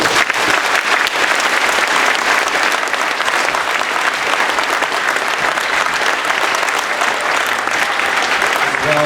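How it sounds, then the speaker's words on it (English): A large crowd at a Veterans Day 2013 event applauds loudly and steadily for speakers, a dense wash of clapping that continues without pause throughout. "let's give a round of applause to all of our speakers today"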